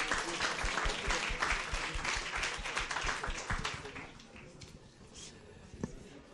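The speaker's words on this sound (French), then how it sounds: "On peut quand même applaudir." An audience at a student debate on equal opportunity in French education claps in a dense burst of applause that thins out and fades toward quiet, with a few scattered claps near the end.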